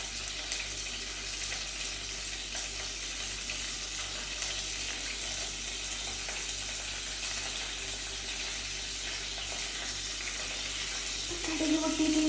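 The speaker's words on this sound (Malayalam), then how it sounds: "കടുക് പൊട്ടിയിട്ടുണ്ട്" Mustard seeds sizzle in hot oil in a pan, a steady dense hiss that holds evenly close by for the whole stretch, with a faint low knock near the end.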